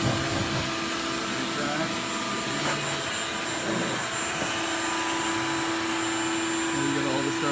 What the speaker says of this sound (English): my beautiful wife is vacuuming it all the stuff